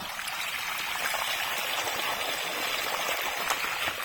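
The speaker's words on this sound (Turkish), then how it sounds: "Ha bu arada gelen suyu göstereyim size. Dereden gelen su bu." Creek water pours into a garden irrigation setup in Antalya, a constant close rushing trickle and splash with no pauses, loud and alone.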